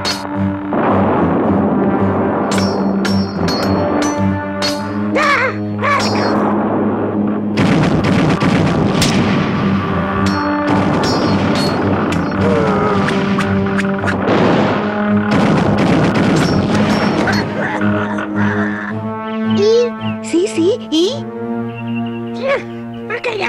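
Staged battle effect of booming artillery and crackling gunfire, loud and continuous with repeated blasts throughout, heard beneath voices and music in a children's tale about bees.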